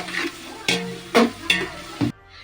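Onion softening in oil in a pan for raw jackfruit curry, heard as a series of five short scraping stirs with light sizzle between them, fading to near silence at the end.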